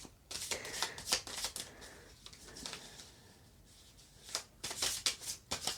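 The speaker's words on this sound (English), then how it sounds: "That was bad shuffling." A deck of tarot cards is shuffled in quick, crisp riffles and flutters: close bursts of papery snapping come in clusters, pause briefly, then pick up again, with no talking.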